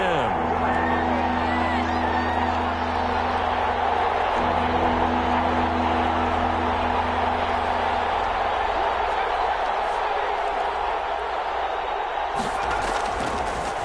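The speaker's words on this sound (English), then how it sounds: "Crowd getting in it a bit already." A football stadium crowd roars in a steady, loud wash of cheering and hubbub throughout, with a commentator's voice running over it and a sharper swell near the end.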